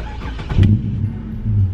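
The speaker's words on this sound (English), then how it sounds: "I'm gonna turn the car on right now for you." A Ford Falcon FG XR6 engine cranks and catches close up, a brief starter whir and bump into a low, rumbling idle that swells slightly at the end.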